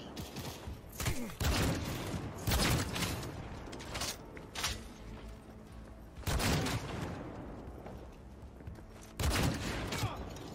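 Gunfire from the video game Cyberpunk 2077: several loud bursts of rapid shots, each a second or so long, recur every few seconds over a steady game soundscape with mechanical clatter.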